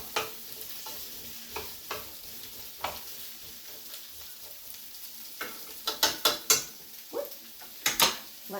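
Kielbasa frying in a pan while being stirred, a soft steady sizzle with repeated scraping and clicking strokes that grow busier toward the end, close and quiet, with no talk.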